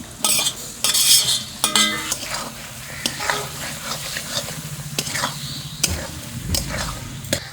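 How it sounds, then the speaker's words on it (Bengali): Fried paneer pieces tipped into a curry and stirred, a spoon scraping and clinking against the pot over a soft sizzle, close and fairly loud in uneven bursts, with no voices. "এখন আমি ভেজে রাখা পনিরগুলো দিয়ে দেবো"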